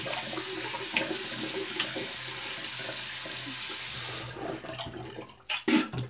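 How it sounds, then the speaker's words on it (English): Cold water runs from a tap into a sink in a bathroom during a wet shave, a steady hiss and splash that breaks off near the end into a few short water sounds. "let's get the cold water up."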